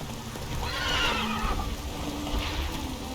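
Roach, a horse in The Witcher 3, gives a whinnying neigh that rises and falls over a steady rainy background, with a second, quieter whinny near the end.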